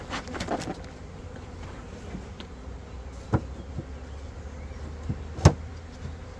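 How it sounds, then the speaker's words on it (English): A low Carniolan honeybee buzz hums throughout a hive inspection, interrupted by a few sharp knocks and bumps close by. "shake off these bees."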